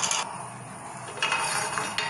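Muscoth halwa mixture stirred in a pan, a utensil scraping and clinking against the metal in a steady close rhythm, with brighter clinks near the start and end.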